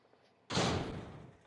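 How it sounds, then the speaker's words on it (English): In Resident Evil 0, a train cart door opens with a sudden loud heavy clunk that decays into a sustained rumbling slide, clear and alone. "this is the door for the train cart"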